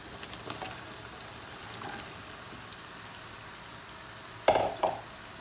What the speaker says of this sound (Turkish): Şimdi üzerine bezelyelerimi ilave ediyorum arkadaşlar